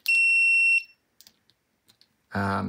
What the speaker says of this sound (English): it makes a tone like that because oftentimes when you're doing continuity checks, you're going to be dealing with multiple wires.